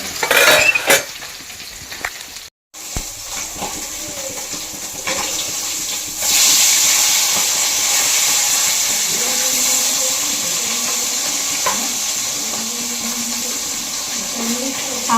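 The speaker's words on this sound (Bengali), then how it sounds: "এইদিকে একটা মাছ ভাজা এইদিকে একটা মাছ ভাজা" Fish frying in a pan, a loud continuous close-up sizzle with occasional utensil clinks and a brief cut near the start, the hiss growing stronger about halfway through, with some talk beneath.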